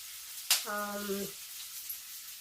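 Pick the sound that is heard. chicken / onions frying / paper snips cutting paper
onions frying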